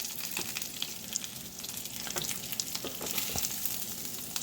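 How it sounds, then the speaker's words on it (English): Steady crackling sizzle of flaky crappie fillets frying in a hot pan, with scattered sharp pops and spatters throughout. "Is it pan searing? Is it frying? Is it blackening?"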